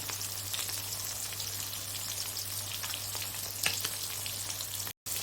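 Hilsa fish frying in oil, a steady dense sizzle with fine crackling pops throughout, fairly close and continuous, a brief dropout near the end.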